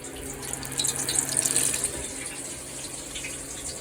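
Frog legs deep frying in hot seasoned grease give off a steady, fairly quiet hiss and sizzle, swelling briefly before settling back to a constant bubbling.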